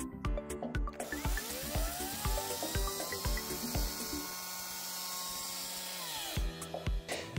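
A green cordless Parkside chainsaw with 20 m/s chain speed and a blunt chain revs and cuts wood, its motor whine rising and falling between loud bursts, close and alone.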